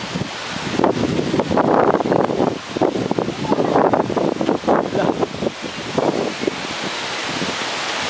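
Strong typhoon wind from Typhoon Agaton roars in heavy gusts, buffeting the microphone in surging bursts that rise and fall, loud and close, easing to a steadier rush near the end.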